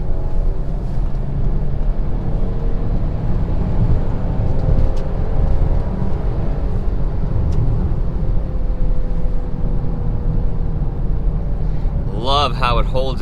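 A 2020 Ford Explorer ST in sport mode pulls onto a highway holding its gear around 3,500 RPM, producing a loud, continuous engine drone, with a person talking briefly over it at the end.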